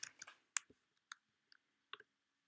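A computer mouse clicks while browsing a website, giving a handful of sharp, separate clicks at an irregular pace, fairly close and quiet against silence.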